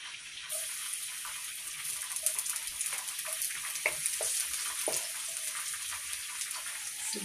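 Garlic sautés in hot oil for a sweet and sour sauce, giving a steady bright hiss and sizzle, with occasional clinks and soft stirring knocks nearby.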